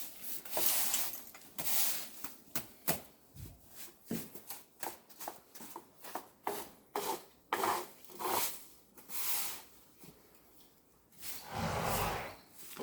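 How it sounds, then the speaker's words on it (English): Repeated scraping strokes of a flat edge dragged across a dirt-covered stable floor while mucking out, each rasping pass short and close, coming in an irregular rhythm of about a dozen bursts with brief pauses between. "I can scrape some of that dirt that's sitting on the floor"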